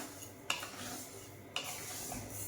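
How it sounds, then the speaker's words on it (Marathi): Chakli flour being dry-roasted in a pan over a low flame, a soft continuous rustle of stirring with two sharp scrapes of the spoon against the pan, quiet and close. "आणि सारखं हलवत राहायचं, अजिबात लागलं नाही पाहिजे खाली"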